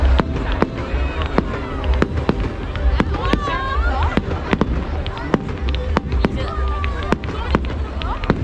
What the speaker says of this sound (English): we are heading to Whitley Bay to watch the fireworks, the annual bonfire fireworks